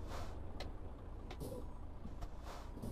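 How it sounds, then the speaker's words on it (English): A MAN truck engine in Euro Truck Simulator 2, run above 1500 RPM, gives a low, fairly faint rumble with a few hissing air bursts, and no talking. "I just have this habit of running the Man over 1500 RPM"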